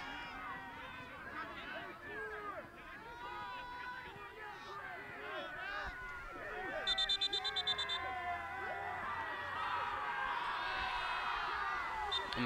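At a college men's soccer match, Loras against Wartburg, the crowd boos and jeers a player. The noise is a broad, rowdy roar of voices under a commentator, with whoops and a rising swell near the end.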